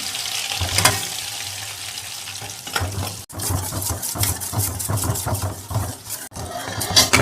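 Maida flour frying in butter for a white pasta sauce, a close bubbling sizzle under repeated scraping strokes of a spoon stirring the pan.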